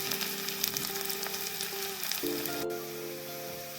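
Sliced shallots and dried red chilies fry in coconut oil with a steady close sizzle, crackles and pops scattered throughout and no voices.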